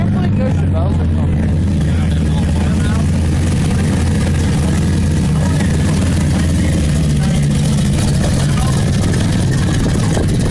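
A car's exhaust roars at a loudest-exhaust competition in Carlisle, a loud, steady, low rumble that fills the whole stretch without a break, with voices faintly underneath.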